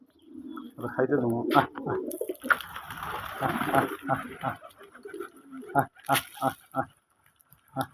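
Pigeons on a local pigeon farm, red, white and sky-blue birds, cooing in low, throaty rolling calls close by, heard under someone talking.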